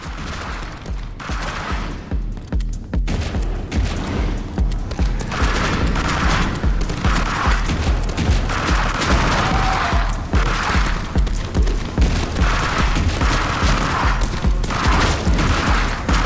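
Gunfire in the action platformer Shotgun Cop Man sounds as dense, rapid volleys of shots and blasts that pound steadily throughout over game music, loud and continuous with no talking.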